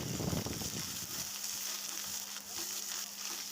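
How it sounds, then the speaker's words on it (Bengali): Ginger paste fries in hot oil for vegetarian coconut ghugni, a steady dense sizzle close to the pan, with a brief rougher crackle at first as the paste hits the oil, then an even hiss throughout. "আদাটা দিয়ে ভালো করে একটু ভেজে নিলাম"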